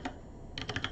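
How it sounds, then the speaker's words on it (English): Someone types on a computer keyboard, with one click and then a quick, close run of keystrokes. "what I'm typing right now"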